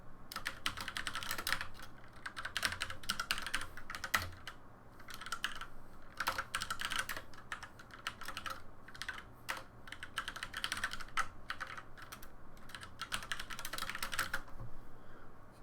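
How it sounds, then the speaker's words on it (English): Steady typing on a computer keyboard while programming a text-based adventure game, quick clusters of light key clicks with brief pauses between bursts, close and fairly quiet, no talk. "What the heck am I typing right now?"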